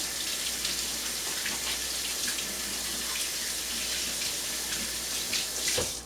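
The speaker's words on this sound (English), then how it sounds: "now I'm going to rinse my hands quickly here" Tap water runs steadily into a sink while hands are rinsed under it, a close, even splashing hiss that lasts throughout, with a few brief louder splashes near the end and no talk.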